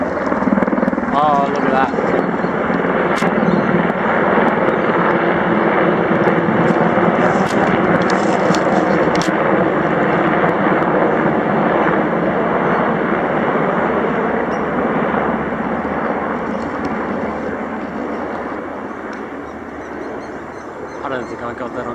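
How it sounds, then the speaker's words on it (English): Five army helicopters pass overhead in the Australian bush, giving a loud steady rotor drone that slowly fades as they move off, while a person speaks briefly underneath. "That was five army choppers going over."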